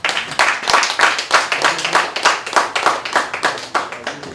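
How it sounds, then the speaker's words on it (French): An audience applauds in a steady, rhythmic clapping burst, many hands striking together in a regular beat, close and continuous for several seconds. "Je voudrais que vous l'applaudissiez encore une fois."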